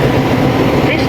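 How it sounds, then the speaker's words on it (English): A train led by locomotive 73209 pulls out of Milton Keynes Central station, a loud, steady rolling rumble in a brief burst. "now departing is the 1434 London and Western Railway service from Birmingham New Street to London Euston, led by 73209"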